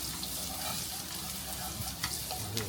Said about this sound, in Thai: เดี๋ยวผัดกระหล่ำแล้วนะครับ